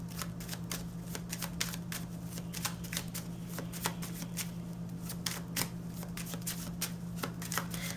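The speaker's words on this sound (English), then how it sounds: "Both decks want to just throw a bunch of cards at me." Decks of cards being shuffled and dealt out, a rapid stream of crisp flicking riffles and snaps over a steady low hum, close and fairly quiet.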